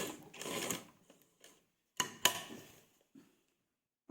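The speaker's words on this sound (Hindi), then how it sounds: "इस तरह से अच्छी तरह से सिलाई लगाएंगे हम" A sewing machine stitches piping onto a dupatta in short separate bursts, a quick run of stitching first and then a few brief sharp clatters with quiet gaps between, close and fairly soft.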